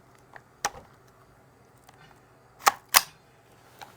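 Suppressed semi-auto rifle fires CCI standard rounds: a few sharp, muted cracks spaced irregularly, two louder ones close together near the end, against a quiet background.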